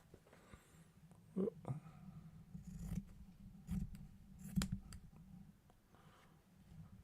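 Sharp scissors trim a sewn fabric piece off a chained line of sewing, giving several distinct close snips and clicks spaced over a few seconds against a quiet room.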